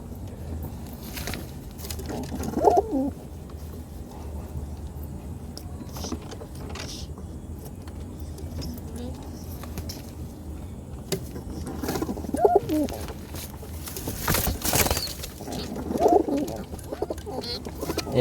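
Fancy pigeons cooing in a loft, soft low coos arriving in a few separate bursts over a steady background hum, with occasional wingbeat-like patter in between.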